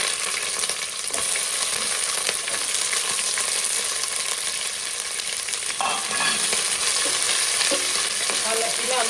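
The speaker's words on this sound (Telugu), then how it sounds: "ఆనియన్ కొద్దిగా గోలనివ్వాలి బాగా డీప్ ఫ్రై కాదు కానీ బ్రౌన్ కలర్లోకి రావాలి" Onions and green chillies frying in a pan for a Telugu pumpkin curry, a loud, close, continuous sizzle with occasional stirring scrapes.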